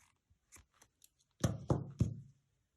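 Scissors snip through crochet yarn three times in quick succession, close and crisp, after a few faint taps and handling noises.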